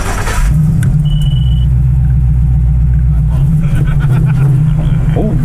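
A Ford car engine rumbles steadily from inside the cabin while driving, a low, even drone with people talking over it.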